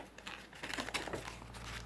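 A sheet of paper is folded into an origami rabbit, giving soft, close crinkling and rustling in short bursts, quiet and with no talking.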